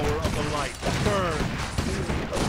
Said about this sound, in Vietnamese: Súng này bắn áp phết đùa đó